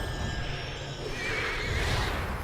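A war steed in the online game LOTRO lets out a loud, rising whinny over a dense, rumbling game background, with faint hoof clatter beneath.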